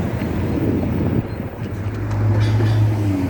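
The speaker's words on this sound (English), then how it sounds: "I catch this train from the Rock Island District." A Rock Island District commuter train in Chicago rumbles steadily close by, a low droning hum rising and holding under faint wind noise.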